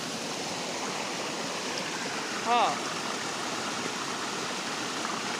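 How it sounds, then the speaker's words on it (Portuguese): A rain-swollen stream rushes steadily with a broad, continuous hiss of flowing water close by, and a woman's short exclamation cuts in briefly midway. "Eu amo esse barulho de água"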